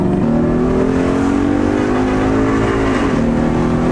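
Car belonging to Sanjay Dutt driving past, a loud continuous engine hum with a steady tone that shifts downward near the end, close and alone without talk.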